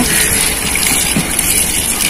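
Water is poured from a bottle onto garden plants in a home garden, a steady, close, rushing gush that continues without pause, with no voices.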